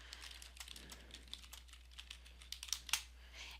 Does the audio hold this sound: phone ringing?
no